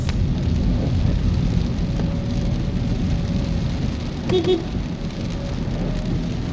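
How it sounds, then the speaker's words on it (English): Rain falls steadily during a drive in a thunderstorm, a loud continuous wash over the car with a low distant rumble of thunder beneath it and a brief tonal beep near the end. "So a lot of lightning, thunder,"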